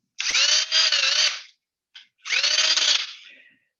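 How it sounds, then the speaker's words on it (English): A quarter-inch power drill whirs loudly and close in two bursts, the first about a second and a half long, then a brief blip and a second longer run that trails off, with no talking. "Now I'm going to go to a medium-sized drill, like let's say 1/4 inch drill."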